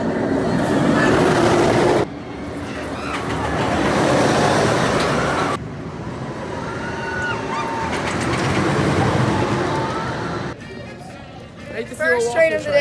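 A roller coaster train at Kings Dominion rumbles along its track in a loud, continuous roar that swells and drops as it passes through sections of the ride, with brief quieter gaps between.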